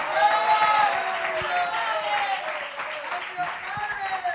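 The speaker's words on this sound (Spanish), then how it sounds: "Le damos un aplauso a Dios." A church congregation applauds during a Spanish-language service, a sustained wash of clapping heard under a voice and some tonal sound, fading slightly toward the end.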